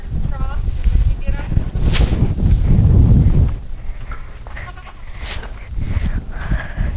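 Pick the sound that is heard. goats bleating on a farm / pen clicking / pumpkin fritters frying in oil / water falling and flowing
goats bleating on a farm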